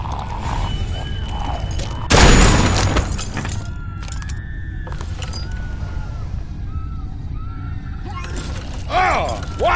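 A single sharp, loud gunshot bursts out in The Walking Dead game during a tense scene, followed by clattering and tense voices talking over a low background.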